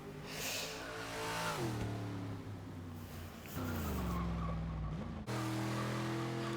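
Engine of a van racing the Nürburgring in Forza Motorsport 6, revving and shifting gears with rising and dropping pitch, plus a brief tire screech, loud and close.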